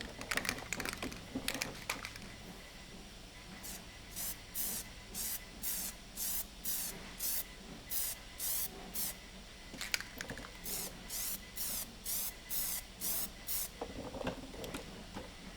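Plasti Dip coating sprayed from an aerosol can onto Tesla emblems, a long run of short even hissing bursts in a steady rhythm, close and fairly loud, with some handling clatter at the start.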